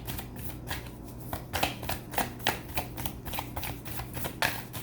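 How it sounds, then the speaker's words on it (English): Oracle cards being shuffled and pulled, a series of soft riffling flutters and slaps in an uneven rhythm, close to the listener with no talking. "Let's pull one more oracle card for you."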